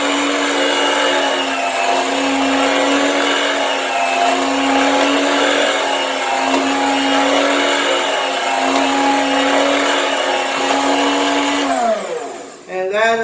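A Cukaid electric meat slicer whirs with a steady, loud motor hum and a rotating blade, running continuously for about twelve seconds before spinning down and stopping.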